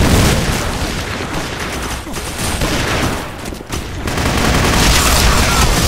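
Sustained Uzi submachine gun fire in a video game, a dense continuous spray of shots that briefly dips mid-clip, with a voice faintly mixed under the clatter.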